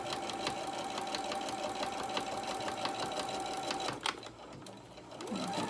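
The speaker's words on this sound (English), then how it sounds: "I'm just going to sew all the way down." A sewing machine stitches steadily down the side of a small tote bag with pockets, running continuously for about four seconds before a brief pause and a soft clunk, then picking up again near the end.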